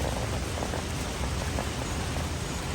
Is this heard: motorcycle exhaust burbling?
no